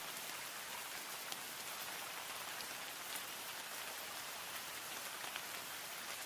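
Steady rain falls without letup, a dense, even hiss of countless drops that stays at a constant moderate level throughout, with no voices or other sounds.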